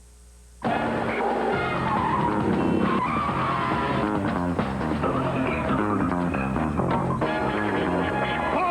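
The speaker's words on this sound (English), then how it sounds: "The V6 Passat. Nice car. Quick, responsive, room for 4." A Volkswagen V6 Passat skids hard in a TV commercial. After a brief quiet start, a loud, sustained tire squeal and engine roar sweep through the rest of the clip, mixed with music and with no speech.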